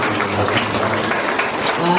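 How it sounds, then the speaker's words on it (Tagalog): A congregation claps loudly in praise of God during a church gathering, a dense steady wash of hands throughout, with a low hum and a few faint voices mixed in. "Sa mga pong malakas na palakpak pa sa ating Diyos"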